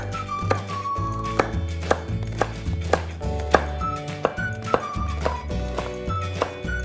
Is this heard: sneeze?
no